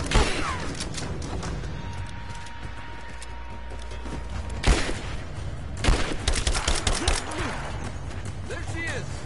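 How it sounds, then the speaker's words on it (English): Assault rifle fire in the action game Tomb Raider 2, loud repeated bursts of shots with crashing impacts and mechanical clatter, mixed with a voice talking throughout. "I sure do got an assault rifle."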